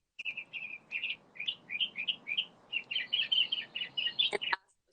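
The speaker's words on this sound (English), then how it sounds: "I love the birds in your background, by the way." Small birds chirping close by behind a video call, a rapid series of bright repeated tweets in quick bursts, fairly loud and alone apart from faint room noise.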